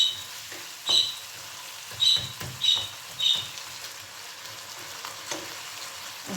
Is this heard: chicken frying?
yes